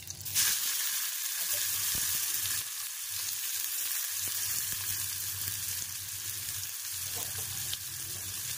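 Frying in hot oil in a pan for a Bengali-style rohu fish dish, a loud, steady, close sizzle with a few stirring scrapes and no talk.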